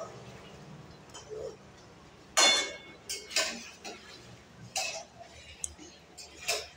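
A spoon scrapes and clinks against a pan while fried potatoes are stirred, in a few sharp irregular knocks over quiet kitchen background with faint talk.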